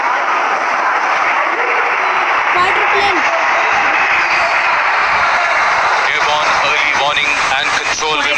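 Four Rafale jets in arrow formation flying over a Republic Day parade, a loud roaring rush passing overhead with crowd noise and a commentator speaking over it.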